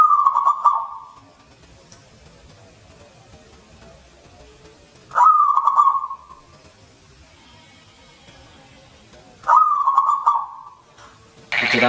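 Three separate bursts of soft, rhythmic zebra dove cooing from a young bird, each lasting about a second and spaced several seconds apart, with quiet background between them.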